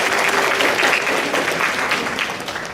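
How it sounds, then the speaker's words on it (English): Sustained audience applause at a middle school honors night banquet, a dense steady clatter of many hands clapping throughout, fading slightly toward the end. "Let's give them a round of applause."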